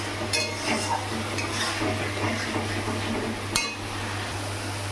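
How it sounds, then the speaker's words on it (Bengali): Garlic and ginger frying lightly in oil in a pan, a continuous soft sizzle with occasional scrapes and a metallic clink, over a low steady hum. "এটা একটু হালকা ভাজা ভাজা করে নিই, রসুনের কাঁচা একটু গন্ধটা চলে যাক।"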